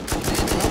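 Rapid automatic gunfire in the online survival game Rust: a quick burst of about six shots, fairly loud and close, with no talk over it.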